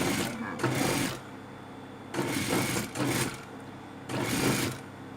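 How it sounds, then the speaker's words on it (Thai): A sewing machine stitches a curved fabric edge in several loud, steady runs of a second or so, separated by pauses in which someone talks. "เราจะมาเย็บนะคะ เย็บกึ่งกลางเนี่ย"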